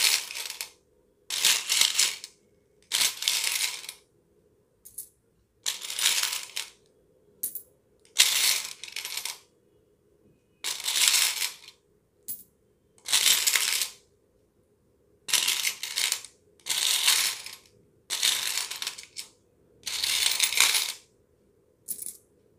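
Coins are pulled out one after another with a cloth clip in a one-minute kitty party game, heard as repeated bursts of clinking and rattling metal separated by short pauses, close and fairly loud, with no talking.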